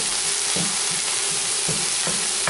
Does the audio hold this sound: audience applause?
no